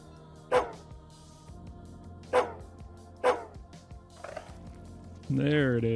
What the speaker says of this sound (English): Just a small white dog